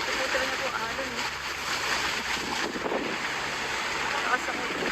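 Ocean waves roll and surge continuously on a rainy, windy day, a steady broad wash of surf with wind buffeting the microphone and a voice speaking over it.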